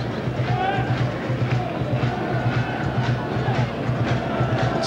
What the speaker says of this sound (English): Still they cheer enthusiastically, even though they're at the wrong end for the Derry action in this half.